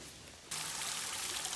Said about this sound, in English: Nice little stone bridge with a little waterfall right there.